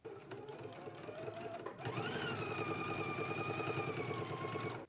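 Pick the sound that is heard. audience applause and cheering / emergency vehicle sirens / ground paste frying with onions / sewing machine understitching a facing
sewing machine understitching a facing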